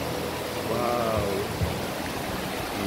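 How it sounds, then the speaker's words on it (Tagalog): A steady broadband rush of water from a stream in a rural natural spot, close and continuous, with a brief faint voice-like tone passing over it. "Ang batis."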